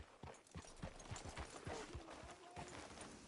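Rhythmic hoof clip-clops of a horse at a steady walking pace in the video game Red Dead Redemption 2, fairly close, over a constant background hum.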